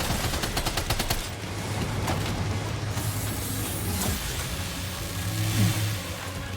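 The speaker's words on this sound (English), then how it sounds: "this machine gun is really good" Machine gun fire in the Death Stranding 2: On the Beach video game, a rapid burst of evenly spaced shots up front, then ongoing combat noise with engine-like rumble and scattered booms.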